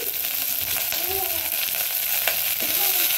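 Vegetables sizzle loudly in a pan with sautéed onion and chili, a constant close frying hiss with occasional scrapes of a stirring spoon.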